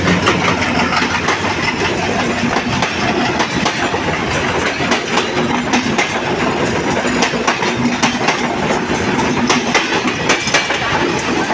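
A Bangladesh Railway train passes close by a level crossing at night, a loud, continuous rumble with rhythmic wheel clatter and metallic clicks that does not let up, and no talking.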